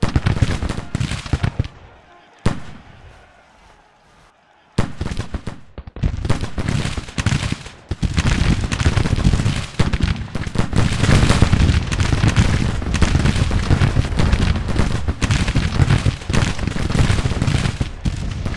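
Dense crackling rifle and musket fire rattles almost continuously from a Civil War video game battle, with a brief quieter lull before it resumes loud and sustained.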